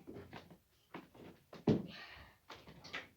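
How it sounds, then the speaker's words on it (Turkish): Someone knocks on a home door: a series of dull thumps comes at irregular spacing, loud and close, with no voices. "Kapı çalıyor."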